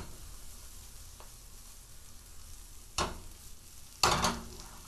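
Raw mushrooms fry in a skillet for a scramble, a steady soft sizzle broken by two louder bursts of scraping and tossing near the end.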